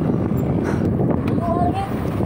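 Steady wind buffets the microphone during a bike ride, a continuous low rumble with gusts that never let up.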